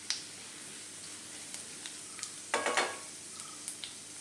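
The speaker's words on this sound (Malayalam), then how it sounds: "ഒന്ന് മൂത്ത് വരുന്ന വരെ നമുക്കൊന്ന് വഴറ്റി കൊടുക്കണം." Pickle spices being sautéed and stirred in a pan, with a soft background sizzle and scattered scraping strokes that cluster into a louder burst of stirring midway, then a few lighter taps near the end.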